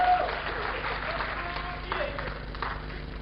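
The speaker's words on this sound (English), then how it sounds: "Round of applause for the PIMP." Audience at a conference lightning talk session claps in a moderate round of applause, partly mixed with voices and crowd noise.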